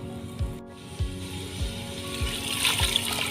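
Water is poured into soaked chana dal in a cooking pot. The rushing, splashing wash is fairly faint, with a soft repeated knocking underneath, and it grows brighter toward the end.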